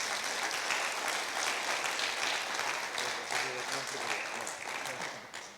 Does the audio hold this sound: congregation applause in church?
yes